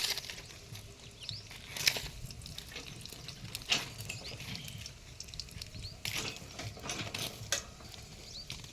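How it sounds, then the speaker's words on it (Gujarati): Cumin seeds drop into hot oil in an Indian village kitchen, giving a soft, steady sizzle and faint crackle with a few sharp clinks, fairly quiet and close. "તેલ આવી ગયું છે એટલે એમાં આપણે જીરું નાખશું થોડું."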